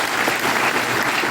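Audience applause at a health program event in Rohtak, a brief burst of dense, loud clapping from a large crowd sustained evenly from start to finish.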